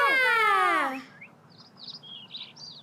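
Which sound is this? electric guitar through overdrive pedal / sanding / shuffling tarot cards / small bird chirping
small bird chirping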